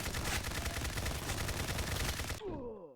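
Sustained automatic AK-74 rifle fire in Call of Duty, a loud, dense rapid burst lasting over two seconds that cuts off abruptly into a short ringing echo tail.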